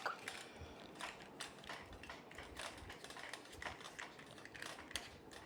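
Tightening the screw on a new tripod gives a run of quick, close clicking and ratcheting ticks, dry and irregular, with no voices.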